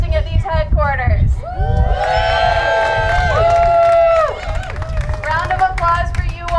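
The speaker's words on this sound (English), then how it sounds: "give me a cheer if this is your first time protesting at these headquarters" A crowd at a clean-energy protest outside a company headquarters cheers and whoops loudly, with sustained shouts and some clapping rising in the middle before fading into scattered voices.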